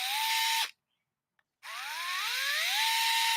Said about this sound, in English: what I love about this drill is that it has a variable speed